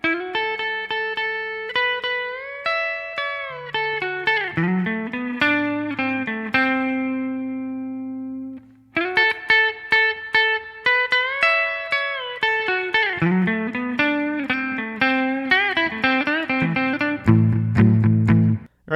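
A guitar plays a song's solo alone, with clean bright picked notes, slides and bends in phrases, a short pause partway through, then further runs ending on lower sustained notes.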